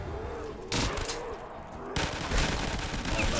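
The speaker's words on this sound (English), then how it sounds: "It really is satisfying to shoot the zombies like this." An automatic G3 rifle in a zombie shooting video game fires in sharp, loud bursts of rapid shots, with a short pause between two volleys of gunfire.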